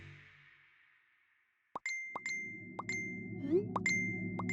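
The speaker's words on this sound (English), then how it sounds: "The notifications won't stop." Phone notification sounds arriving in quick succession: about seven or eight sharp plopping chimes with ringing tones follow a fading synth tone and a short silence, all loud and close with no voices.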